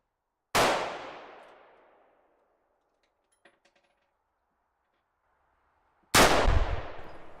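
Two loud, close rifle shots from a gun fitted with a muzzle brake, each a sharp crack with a decaying ring. The shots are about five and a half seconds apart, and a couple of faint metallic clinks fall between them.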